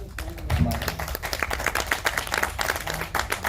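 An audience at a stage event for a Hindustani classical vocal performance claps in a brisk patter of individual hand claps, moderately close, with a few voices underneath.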